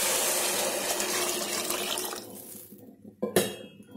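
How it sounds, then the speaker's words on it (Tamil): Six tumblers of water are poured into a cooking pot for vegetable pulao, a steady close splashing stream that tapers off into a few final drips and a light clink of the pot. "ஆறு டம்ளர் தண்ணி ஊற்றிக்கிறேன்."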